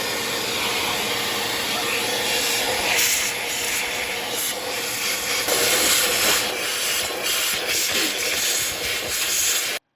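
A shop vacuum cleans out the empty air filter canister of a Kia Rio, giving a steady, loud, close whooshing roar that holds for the full ten seconds and then cuts off abruptly at the end.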